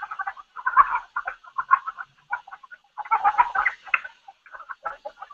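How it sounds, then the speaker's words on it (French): A chicken sound effect from the Open-Sankoré educational software library plays alone, with choppy bursts of clucking in irregular runs and short pauses between them. "Alors, c'est le son d'un poulet"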